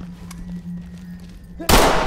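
A single loud, sharp gunshot in a video game, cracking out suddenly after a stretch of low hum and faint background noise near the end.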